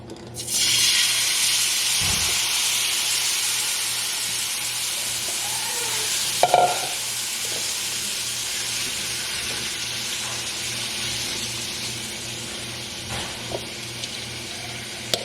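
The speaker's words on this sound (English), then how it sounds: "And now adding our meat." Carne asada meat hits a pan of hot avocado oil and sizzles loudly, a sustained close frying hiss with occasional clinks and stirring scrapes, no speech.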